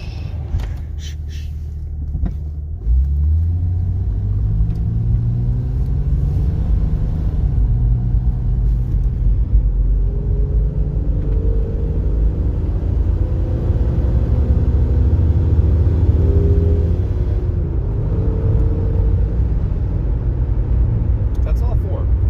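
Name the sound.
Jeep Cherokee XJ driving through the gears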